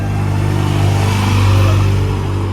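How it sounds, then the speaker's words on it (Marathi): Sanju's vehicle engine runs with a steady, loud mid-pitched drone that swells slightly as it revs on a road trip to Ekvira Aai, continuous and close throughout with no talk. "हे बघा संजूची गाडी चालते बघा."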